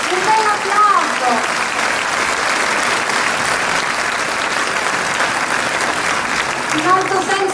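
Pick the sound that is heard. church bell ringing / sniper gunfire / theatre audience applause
theatre audience applause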